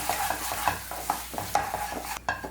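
Masala paste with green chillies frying for dum aloo, stirred briskly in a pan, giving a soft sizzle broken by repeated scraping strokes and light clinks, close up with no talking.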